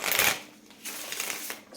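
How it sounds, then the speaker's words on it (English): A tarot card deck being shuffled by hand, cards kept upright, with a dense riffling burst at the start followed by softer, continuous rustling and flicking close to the microphone, no voices. "I'm keeping all the cards upright as I shuffle."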